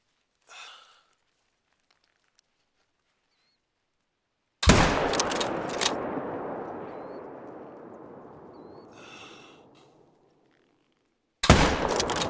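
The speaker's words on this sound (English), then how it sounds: "See if we can put a second shot in and bring him down." Two loud rifle shots ring out at a moose in theHunter: Call of the Wild on the Layton Lakes map. Each sharp crack is followed by a long echoing rumble that fades across open terrain, with near silence in between.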